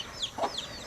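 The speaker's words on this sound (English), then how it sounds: "All I have to do is feed this mama chicken with her babies." A mother hen clucks once, low and close, amid the high, thin peeping of her chicks in a farm enclosure.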